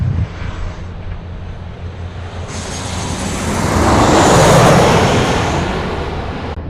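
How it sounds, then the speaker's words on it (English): A Qantas Boeing 737-800 passing overhead on approach at Sydney Airport, its jet roar swelling loudly as it nears, peaking around the middle with a rushing high whine, then easing as it passes. "Next in over our heads is Qantas 434 from Melbourne, 738."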